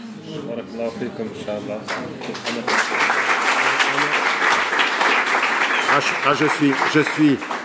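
An audience applauds at a talk, with clapping that builds and swells to a steady, dense ovation while someone speaks over it at the start.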